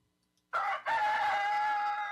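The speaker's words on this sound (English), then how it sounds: "Shut that rooster up!" A rooster crows loudly and close by, one long sustained cock-a-doodle-doo after a brief opening note.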